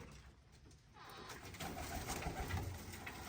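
Pigeons coo in a village setting with soft, low murmuring calls over a steady background noise, growing slightly louder in the second half.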